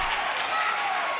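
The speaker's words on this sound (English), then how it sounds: "The sound of this crowd is deafening," A dense, roaring wrestling arena crowd in WWE 2K23, cheering and clapping as a steady, loud wash of noise throughout.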